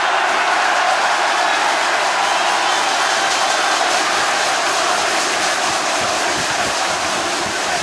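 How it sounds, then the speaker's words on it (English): Wrestling arena crowd cheering during an AEW Casino Gauntlet match: a loud, unbroken roar of a large audience that fills the whole stretch, with a faint commentator's voice beneath it. "Listen to this crowd."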